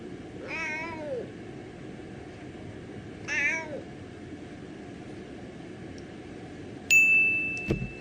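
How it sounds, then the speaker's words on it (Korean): A cat meows twice in a played video clip, two clear drawn-out calls a few seconds apart, followed by a short bright ding. "고양이는 왜 야옹 하고 울까?"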